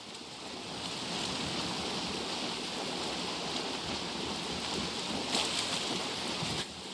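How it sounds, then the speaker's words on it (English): Rain falling at sea in Valheim, a steady soft hiss of rain on water with faint wave wash, fairly quiet and continuous, with a brief brighter splash near the end and no talk. "Always wants to rain when I'm out doing something."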